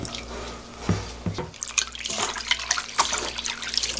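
Tap water runs and splashes while salted cucumbers are rinsed for quick pickles, an uneven close patter of drips and streams with no talking.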